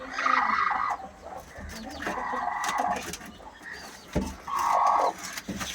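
Brooding hens sitting together on one clutch of eggs cluck in low, drawn-out murmurs in repeated bouts, close by, with other farmyard sounds between.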